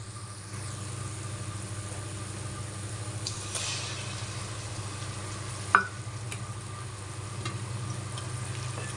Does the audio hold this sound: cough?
no